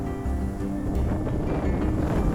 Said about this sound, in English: it is now like the windiest conditions I've ever ridden in